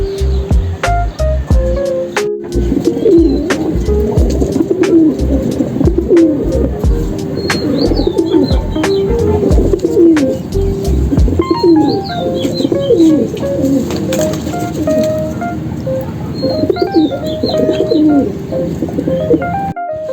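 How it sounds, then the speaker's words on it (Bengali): A large flock of pigeons at a loft, with loud wing flapping in rapid bursts at the start, then steady close cooing and soft calls continuing throughout. "দেখেন কীভাবে উঠতেছে অনেকগুলা কবুতর।"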